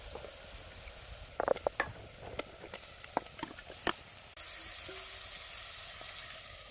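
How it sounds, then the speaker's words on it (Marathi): Mutton added to sautéed onion in a clay pot for village-style kanduri mutton: scattered knocks and scraping from stirring, then a steady, moderate sizzle. "मातीच्या हंडीतलं कांदा परतलाय तर मटण घालून घेऊया"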